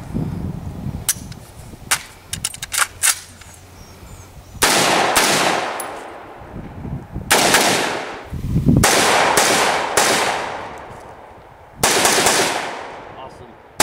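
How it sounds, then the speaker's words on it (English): Rifle and handgun gunfire at a tactical carbine course: sharp shots crack in bursts and spaced strings, some rapid, some single, loud and close, with faint talk between volleys. "We're gonna shoot Mike. Get your pistol."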